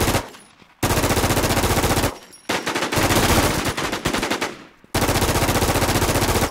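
An automatic machine gun in the survival shooter game Infestation fires three loud, close bursts of rapid, evenly spaced shots, separated by short pauses.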